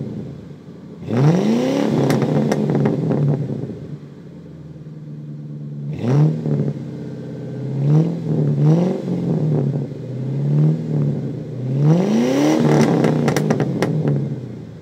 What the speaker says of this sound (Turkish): Bir de motorun sesini dinlemek lazım değil mi? V8'in sesini bir şöyle bir gürül gürül dinleyelim arkadaşlar